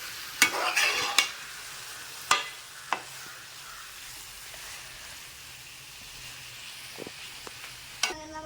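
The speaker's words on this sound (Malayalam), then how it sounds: "കൊഞ്ച് പൊടിയാതെ പതുക്കെ നിങ്ങൾ ഇളക്കണം ഗൈസ്" A prawn roast made with coconut and raw mango is stirred gently in a pan: a few scattered spoon scrapes and knocks over a soft, faint background sizzle, without speech.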